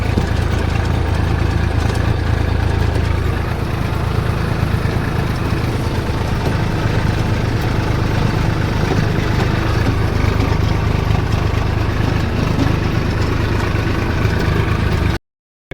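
Tractor engine running steadily while ploughing a field in a village, a constant near, loud low drone with no clear breaks, ending abruptly.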